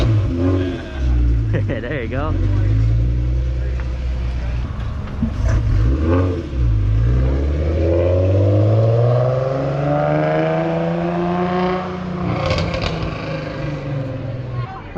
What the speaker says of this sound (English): Let me hear that fried exhaust.